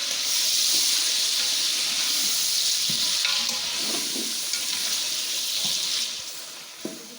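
A kilo of chopped tomatoes sizzles loudly in a hot pan for Afghani biryani pulao while a spoon stirs them, with soft scraping and occasional wet clinks under the constant frying hiss.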